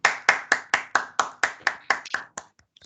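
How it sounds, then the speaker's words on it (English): About a dozen crisp, evenly spaced claps from an email writing course class applauding themselves, sounding like one or a few nearby clappers in a steady rhythm that loosens and trails off into scattered faint taps. "Everybody, please give yourselves a big round of applause."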